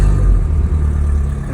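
Mercury 40/60 hp four-stroke outboard engine running just after a key start, a steady loud low rumble with slight clatter, close by and without talk.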